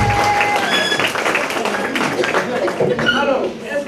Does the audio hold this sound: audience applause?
yes